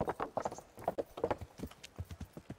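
Horse hooves clip-clop steadily in the medieval video game Kingdom Come: Deliverance, a brisk regular rhythm of sharp close hoofbeats at a walk or trot, with no voices over them.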